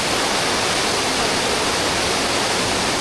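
Rushing water from a waterfall at an eco-tourism nature area, a dense, steady roar heard up close and loud throughout, with no voices.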